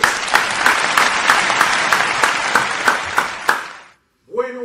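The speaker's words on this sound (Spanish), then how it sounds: "Esto para mi gente merece un aplauso, señores." An audience applauds during an interview with a Venezuelan urban music artist. A steady stream of clapping carries regular louder beats, then stops abruptly before a voice briefly begins speaking.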